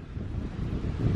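Strong gusting wind by a lake buffets the microphone with a loud, continuous low roar that swells toward the end.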